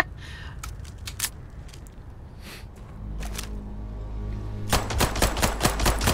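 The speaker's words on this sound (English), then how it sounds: "Let's try killing with a pistol." Pistol gunshots in Starfield, a handful of sharp single shots, then a faster cluster of loud cracks near the end over a low rumbling background.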